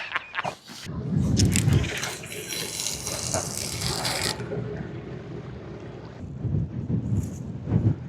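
A strong headwind buffets the microphone at a small seaside breakwater, loud gusting rumble and roar rising and falling throughout, with brief handling noises early on.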